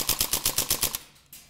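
A PTS Mega Arms MKM AR15 gas blowback airsoft rifle fires a short full-auto burst of about eight rapid, evenly spaced sharp cracks, close and loud, then cuts off into quiet with a faint clack.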